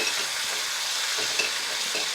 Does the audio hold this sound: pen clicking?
no